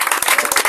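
Applause for a first-grade pupil at a classroom or school event, dense steady clapping from a small group, loud and close, filling the short moment without any talk.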